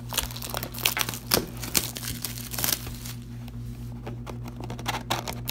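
Plastic wrap on a box of 2019 Panini Diamond Kings baseball cards crinkles and tears in sharp, irregular bursts over a steady low hum, close and fairly quiet.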